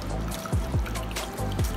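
Water trickles and splashes into a pan of milk khova as a glass is poured in to wash it, a close, steady liquid dribble with a few brief gurgling surges and no talking.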